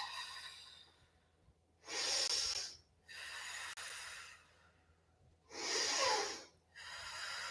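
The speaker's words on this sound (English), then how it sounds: "I'm heating up, so I'm breathing out my mouth." Breath pushed out through the mouth during a heated yoga flow: four loud, close, breathy exhales in two pairs, separated by short quiet gaps, with no talking.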